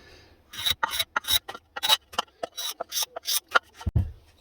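A nearly 100-year-old Stanley 101 block plane takes quick, rhythmic shaving strokes along a coated birch plywood edge, a fast series of close, crisp rasping swipes ending in a duller knock.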